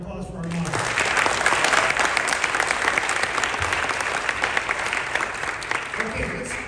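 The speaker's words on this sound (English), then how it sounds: "How about a round of applause for our moño?" A school mariachi audience gives a steady, dense round of applause for a moño worn with the outfit, sustained at even loudness before tapering off at the end.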